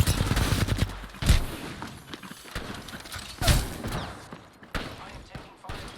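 Video game gunfire in an online shooter, sharp bursts and single shots at scattered moments against a busy background of game noise, fairly loud and close.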